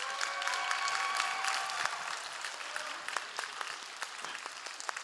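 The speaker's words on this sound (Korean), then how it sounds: "우리 박수로 맞이해 주시기 바랍니다" Audience applause in a church during a Sunday youth worship service, welcoming an engaged couple; steady dense clapping filling the room, with a faint sustained tone underneath early on.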